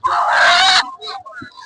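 Chicken at a weekly village market poultry sale gives a loud, close squawking call lasting under a second, followed by softer, brief clucks and faint background sounds.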